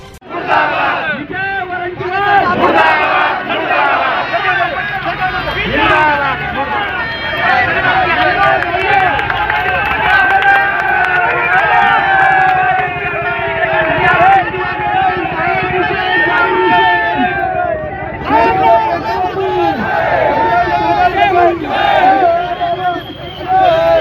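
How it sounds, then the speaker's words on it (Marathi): Protest crowd in Nashik loudly chanting slogans against Congress leader Vijay Wadettiwar, a dense, continuous mass of shouting voices close by, rising and falling in rhythmic bursts throughout. "विजय वडंटीवार यांच्या विरोधात जोरदार घोषणाबाजी करण्यात आली"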